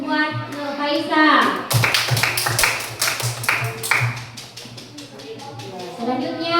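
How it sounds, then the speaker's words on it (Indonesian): A classroom of young pupils bursts into rhythmic clapping for a classmate, a dense run of hand claps rising over a voice and fading back into children's talk. "Iya, tepuk tangan buat Nur Faisa."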